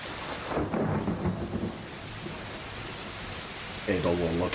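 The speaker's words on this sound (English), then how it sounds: "you all suddenly begin hearing rain outside" Rain and thunder play as a sound effect during a Dungeons and Dragons session, a steady wash of rainfall with a low rumble near the start. Voices talk over it at points.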